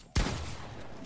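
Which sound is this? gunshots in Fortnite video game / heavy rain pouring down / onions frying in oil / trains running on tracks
gunshots in Fortnite video game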